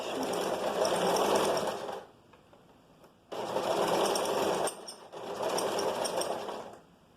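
A sewing machine runs in three bursts while stitching a straight seam on a vest, each run a loud, rapid mechanical clatter of about one to two seconds, separated by short quiet pauses.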